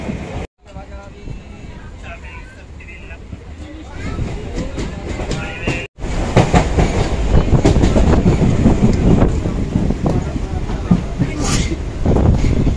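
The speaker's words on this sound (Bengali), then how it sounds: "বন্ধুগণ এখনই ট্রেন চলে এলো, আমরা তাড়াতাড়ি ট্রেনটা ধরবো।" A MEMU passenger train runs on rails, heard from a station or on board: a low rumble that swells after a short cut and stays loud and close, with rhythmic wheel clatter and metallic squeals, while people talk over it.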